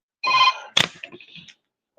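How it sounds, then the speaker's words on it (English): A telephone rings nearby with a bright electronic trill, followed by a sharp clatter and a few softer handling knocks, then a brief onset of another ring at the end. "Now my phone's ringing."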